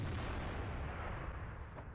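A World of Tanks artillery gun fires a shot, giving a heavy low boom with a rumbling tail that fades over about two seconds, fairly faint, with no talking.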